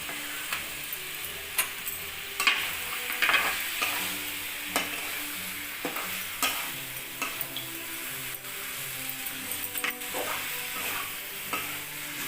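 Prawns and vegetables fry steadily in hot masala oil for a Puri-style machha mahura, with a constant loud sizzle broken by repeated scrapes and clinks of a stirring spoon against the pan.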